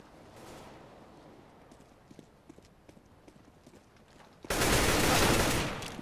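Gunfire in Counter-Strike: Global Offensive on the Dust II map, a loud sustained burst of shots erupting near the end after quieter footsteps and ambient game noise.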